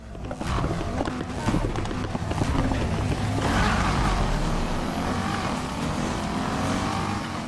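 A V8-swapped Nissan GTR with all-wheel drive in the racing game Need for Speed Heat, its engine roaring loud and continuous as it launches and accelerates, rising in pitch with a rough, growling exhaust.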